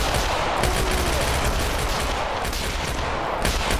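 Continuous close gunfire in Tactical Assault VR during a room-clearing squad assault, a dense, loud wash of automatic shots with no pauses and rhythmic peaks of sharper bursts.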